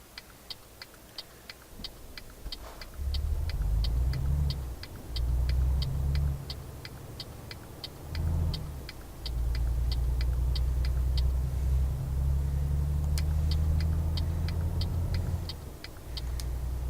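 A Volvo FH truck engine in the driving game Euro Truck Simulator 2 drones low and steady, surging and easing in long stretches, with a regular ticking, like a turn indicator, running over it throughout.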